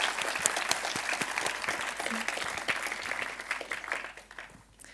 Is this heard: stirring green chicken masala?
no